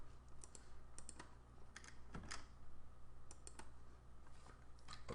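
Someone types on a computer keyboard while drafting in AutoCAD LT 2022, with irregular bursts of close, crisp key clicks and short pauses over a faint steady hum. No one speaks.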